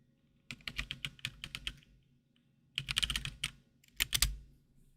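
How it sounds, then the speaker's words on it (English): Typing on a computer keyboard in three close bursts of rapid clicking keystrokes, crisp and moderately loud, separated by short pauses, with no talk. "I'm going to go ahead and just do a typing test just so you guys can hear how this sounds"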